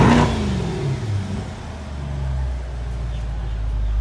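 Engine of a 2021 Corvette Stingray with the 6.2L V8, heard close as a steady low rumble that swells slightly, opening with a brief louder burst, with a short remark spoken over it.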